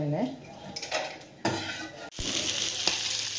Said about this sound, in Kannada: ಸಂಡೆ ಇವತ್ತು ಫಿಶ್ ಫ್ರೈ ಮಾಡ್ತಾ ಇದ್ದೀವಿ ತವಾ ಮೇಲೆ